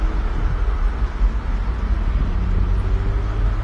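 A car rolls along the road with a steady low engine and tire rumble that stays loud and even throughout, no voices.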